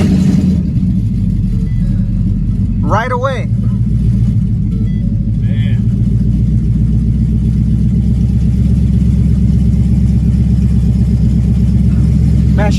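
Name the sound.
turbo S550 Mustang GT engine starting up and running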